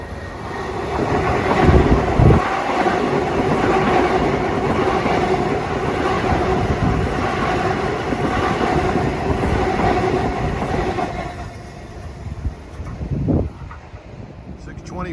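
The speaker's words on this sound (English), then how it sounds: "here comes train 609, Port Jeff to Long Island City" A Long Island Rail Road commuter train, Port Jefferson to Long Island City, rolls into Forest Hills station on track 2, loud and steady, its rumble and wheel clatter filling the air before easing off and fading near the end.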